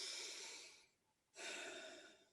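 Two slow, deep breaths, a long hissing inhale or exhale, a brief quiet pause, then another full breath, close and soft with no talking, taken during a grounding meditation.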